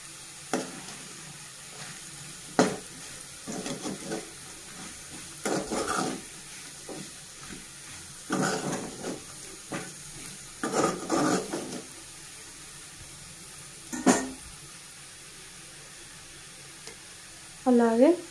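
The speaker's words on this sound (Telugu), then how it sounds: "ఆల్మోస్ట్ ఆలు ఫ్రై అయిపోయిందండి" Aloo fry, potatoes frying in a pan, crackles with a steady sizzle while a spoon scrapes and stirs in repeated bursts, close and fairly loud, with a brief clink near the end.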